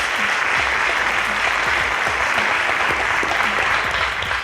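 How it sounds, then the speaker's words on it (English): Audience at a school quiz competition applauds the contestants with continuous, even clapping that stays loud and unbroken throughout. "A round of applause for the contestants."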